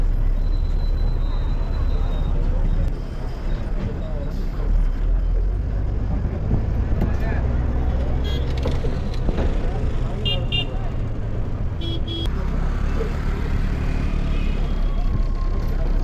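A city bus on the Avadi to Tambaram route in Chennai slows at the Thirumudivakkam SIDCO stop, with engine rumble, road noise and brief high hisses from inside the bus, and voices under the din.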